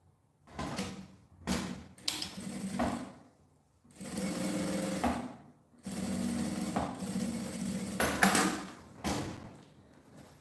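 A sewing machine stitches the lining seam of a luxury toiletry bag in several close, steady whirring bursts of a few seconds each. Short pauses fall between them, marked by light handling clicks and thumps.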